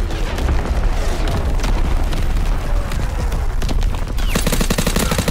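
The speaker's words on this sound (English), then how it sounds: "Incoming enemy artillery! Get to cover!" Heavy artillery blasts and gunfire roar through a WWII video game battle, a dense, continuous barrage of booms and rapid shots that stays loud the whole way, with a burst of sharper crackling impacts near the end.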